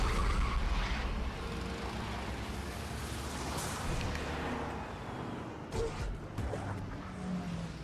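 Cars driving and skidding in The Wolf Among Us video game: a loud engine roar and tire rumble at first, then a sustained moderate drive with sharper skid and impact bursts near the end.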